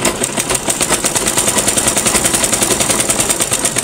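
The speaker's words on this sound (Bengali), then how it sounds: "এই পট্টির দিক দিয়ে একটু ভালো করে সেলাই করে দিতে হবে।" A sewing machine stitches a salwar seam in a fast, steady mechanical rattle, loud and close, with no talk.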